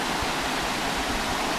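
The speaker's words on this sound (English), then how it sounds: "This is the Silver River Falls." Silver River Falls, a rocky waterfall on State Route 26 in Michigan's Upper Peninsula, roaring as a steady broadband rush of falling water, even and continuous throughout with no voices.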